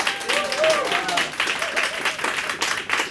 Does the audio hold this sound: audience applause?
yes